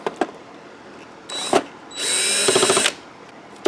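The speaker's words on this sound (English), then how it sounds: "And because I'm lazy today, I'm going to use some power tools." A power drill whirs in short bursts, with one sustained run ending in ratcheting clicks as a screw is driven out of a Hayward Navigator pool cleaner, up close with no talking.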